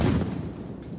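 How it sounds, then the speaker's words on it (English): A tannerite explosion played back as a recording, a dull low boom with a rumbling, rolling tail that stays fairly loud and dense across a second, with no voices. "This tannerite explosion doesn't have a radius beyond a few miles"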